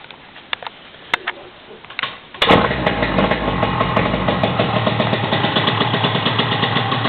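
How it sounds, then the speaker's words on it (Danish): An engine in a workshop cranks and catches on the first try about two seconds in, then settles into a steady, loud running idle after a few sharp clicks and knocks. "Den starter selvfølgelig første hug."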